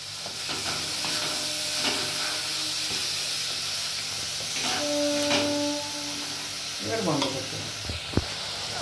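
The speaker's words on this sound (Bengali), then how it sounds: "ভালো করে সব মশলাগুলো পেস্ট মানে ভাজা হয়ে গেছে, তেলও রিলিজ করছে" Tomato paste with ground roasted cumin and red chili fries in oil, a loud, continuous sizzle with occasional stirring clatter near the end.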